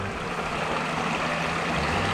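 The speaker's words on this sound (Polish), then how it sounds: "ścieki do rzeki ktoś wlewa" Sewage gushes into a river in a steady, close watery rush, heard alone and unbroken throughout.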